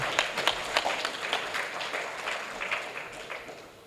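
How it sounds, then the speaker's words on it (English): An audience applauds judges at a formal gathering, a soft, fairly distant patter of many hands clapping that slowly fades out. "And clap for them again."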